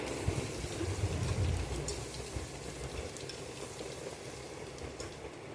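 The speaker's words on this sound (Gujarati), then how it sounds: "2 સૂકા મરચાં અને જે આપણે 1 ચમચી લસણની પેસ્ટ છે તેને અંદર ઉમેરી અને તેને સારી રીતે અંદર સાંતળી લઈશું" Dried red chilies, a bay leaf and a spoonful of garlic paste sauté in a pan for a potato-onion curry, giving a soft, steady sizzle with faint stirring clicks throughout.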